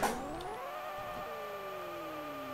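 Game car engine in Pixel Car Race revving steadily to heat the tires of a drag-built Fusca, a loud, sustained whine with rising harmonics after a sharp start, no voices.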